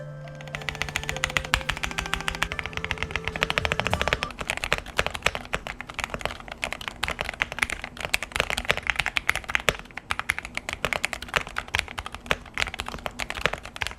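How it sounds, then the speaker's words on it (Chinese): Steady, fast typing on a budget mechanical keyboard, the VXE V75X, with a dense run of sharp, close key clicks and clacks. A brief musical tone sounds early, and no one talks. "接下来让我们听听看这有点悲剧的打字音吧"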